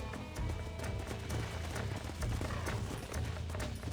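Horse hooves clip-clop at a steady running gait in Red Dead Redemption, close and continuous across the whole stretch with no voices over them.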